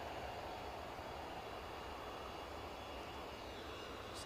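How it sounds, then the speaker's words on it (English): Air Canada airliner at Edinburgh airport, its engines giving a steady broadband roar that swells slightly as it taxis, continuous and fairly distant with no voices. "Air Canada, you can probably just hear the slight pickup in engine noise."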